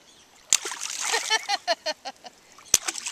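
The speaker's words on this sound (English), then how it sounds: "Watch, I can do a big splash, right?" Sharp splash sounds as someone jumps or slaps into water, followed by a series of rhythmic sloshes and a second sharp splash, with children's voices around.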